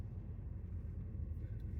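Steady low rumble of a truck cabin while driving, a constant engine and road drone with no distinct events, fairly quiet throughout.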